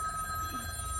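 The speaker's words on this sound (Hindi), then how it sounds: "बार बार घंटी बज रहा है मोबाइल में" A mobile phone rings with a steady electronic tone that holds evenly for about a second, alone and without voices.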